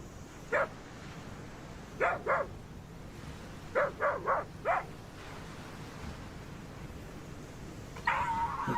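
A dog barks in a handful of short sharp yips and barks, scattered singly and in quick pairs, moderately close against a quiet background, ending in a longer higher whine-like sound.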